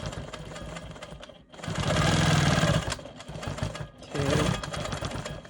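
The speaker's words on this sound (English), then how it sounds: "I'm going to go ahead and stitch some more straight lines to get me to that point" A sewing machine stitches straight quilting lines on a star quilt block, running close in two bursts with brief slowdowns between them. No one speaks.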